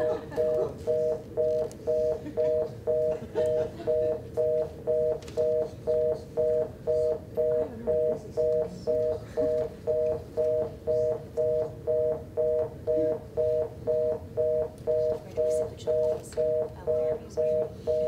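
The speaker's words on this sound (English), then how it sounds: "Now he's doing Morse code. Yeah, that's that help signal" A help signal in Morse code sounds as a steady run of short, evenly spaced electronic beeps, repeating about twice a second for many seconds over a low murmur of background noise.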